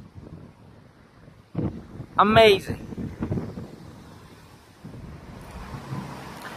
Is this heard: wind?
yes